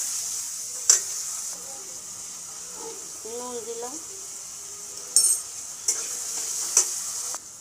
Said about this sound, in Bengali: দিয়ে পেঁয়াজের সঙ্গে আলু ভেজে নেব